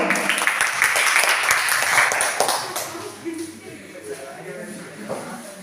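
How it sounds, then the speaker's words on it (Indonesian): Classroom applause for a student group after their presentation, a brisk burst of many hands clapping that fades over a few seconds into quieter shuffling and room noise, with a voice heard under it. "Tepuk tangan dulu."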